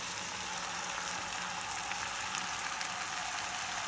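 Boiled rice for restaurant-style egg fried rice frying in a hot pan. A steady, even sizzle hisses at close range with no break and no talking over it.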